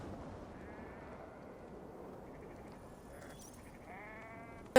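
Sheep bleat in the Viking-age video game Assassin's Creed Valhalla. A few short bleats rise near the end over a steady low ambient rumble.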